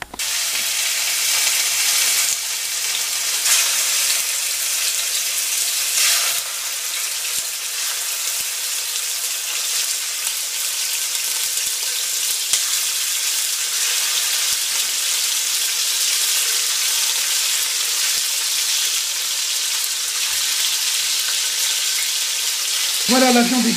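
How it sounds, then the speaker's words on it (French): Veal sizzling and frying steadily in olive oil in a cocotte, a constant close hiss throughout with faint stirring clicks and a brief voice near the end. "on va commencer par faire dorer le veau dans une cocotte avec de l'huile d'olive"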